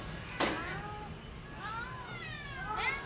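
A shelter cat meows a few times in short rising and falling cries, one near the start and a couple toward the end, over a quiet room with a person's voice nearby.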